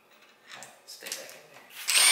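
Faint clatter and rustling build into a loud, steady whir of an impact wrench starting near the end, removing parts from a Ford Crown Victoria during an LS engine swap.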